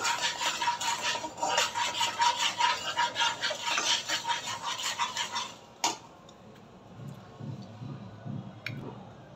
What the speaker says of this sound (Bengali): তো আবার আমি এটাকে সুন্দরভাবে নাড়বো।